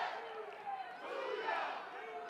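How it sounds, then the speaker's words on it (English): Sold-out crowd at a college softball stadium roaring in sustained cheers and shouts, distant and swelling, heard briefly. "A sold-out crowd all 3 days. And they finally get their opportunity to erupt."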